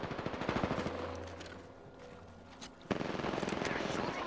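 Video game gunfire in Apex Legends: rapid automatic bursts crackle at the start and again at the end, with a game announcer voice and a low hum in the quieter middle stretch.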